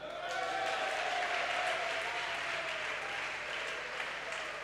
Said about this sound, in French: Acclame Jésus.